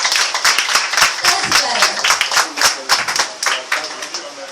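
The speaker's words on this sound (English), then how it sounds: "can't you still clap for them?" School audience at a quiz competition between two school complexes clapping for contestants, a loud, ragged burst of sharp claps throughout, with an emcee speaking briefly over it.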